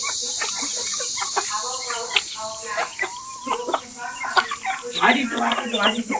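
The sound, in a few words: chickens clucking while fed wheat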